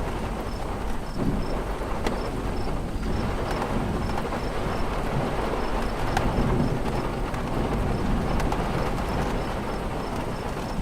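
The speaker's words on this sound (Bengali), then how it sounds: "খুব কাছে একটা জোরে বাজ পড়লো। বৃষ্টির বেগ ধীরে ধীরে বাড়তে শুরু করলো।" Heavy rain pours steadily in a Bengali horror cartoon scene, a dense continuous wash of noise with a low rumbling undertone of thunder, no speech.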